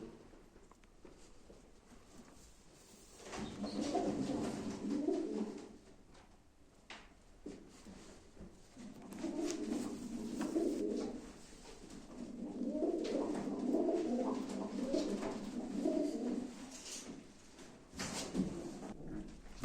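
Pigeons coo at a live pigeon auction, with a pair of birds being shown. Soft, rolling coos come in repeated bursts from close by, with brief pauses between them, over faint room noise.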